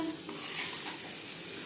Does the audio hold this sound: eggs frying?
yes